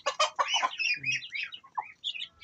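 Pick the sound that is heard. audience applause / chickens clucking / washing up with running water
chickens clucking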